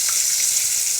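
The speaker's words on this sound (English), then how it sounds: "And you see how it's sizzling? That's good." Steady, close sizzling of liver and onions frying in a hot pan, a continuous crackling hiss with no talking.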